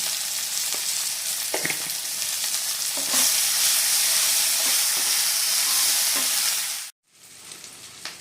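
Tomatoes sprinkled with salt sizzle and fry loudly in a hot pan for a tuna curry, a dense steady crackle that cuts off abruptly near the end before a quieter sizzle resumes.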